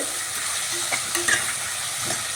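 A spoon scrapes and stirs lentils around in a pan, soft irregular scraping over a steady background hiss, no voices.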